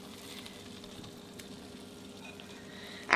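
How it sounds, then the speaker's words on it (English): Ground beef sizzles in a taco skillet, a soft steady crackle at low level throughout, ending in a sudden louder scrape or stir at the close. "I actually let the bottom sizzle a little bit"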